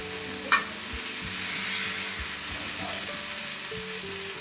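Masala-coated fish fillets sizzle on a lightly oiled flat griddle, a steady bright hiss running continuously underneath a low hum, with a brief sharp crackle near the start.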